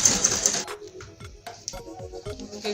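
Sewing machine stitching the side of an Ankara fabric bag, a fast rhythmic mechanical clatter of needle strokes with a whirring motor, close and steady after a brief louder opening.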